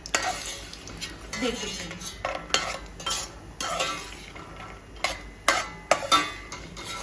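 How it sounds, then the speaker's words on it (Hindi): Almonds fry in a pan on a medium gas flame while a spoon stirs them, producing a soft sizzle under repeated scraping and clinking strokes against the metal; a voice speaks a word briefly. "तो बादाम हमारी फ्राई हो गई है।"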